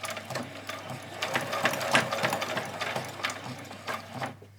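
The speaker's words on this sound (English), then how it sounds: "When I get here, I'm just going to do some back stitches." A sewing machine runs short back-and-forth back stitches on fabric fairy wings, close and moderately loud, in uneven bursts of needle clatter and mechanical ratcheting over a low steady hum.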